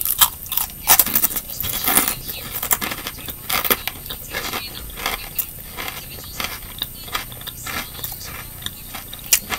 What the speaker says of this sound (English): But you may hear the crunching.